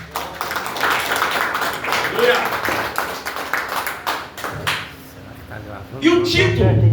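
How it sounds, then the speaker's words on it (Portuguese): A church congregation claps for Jesus during an evening service, a dense burst of many hands clapping with murmured voices underneath, fading briefly before a louder swell near the end. "Pode se assentar e bate palmas para Jesus."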